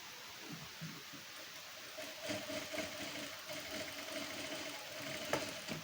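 A sewing machine stitches tucks on a blouse at the neckline side, a steady mid-level mechanical whir running throughout with a slight rise in loudness partway through, no voices.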